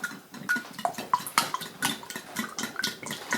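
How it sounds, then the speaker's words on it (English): Eggs and fresh heavy cream are whisked together in a bowl for scrambled eggs, giving close, quick rhythmic clinks and wet slaps of the whisk with no talking. "And we're going to whisk it all together."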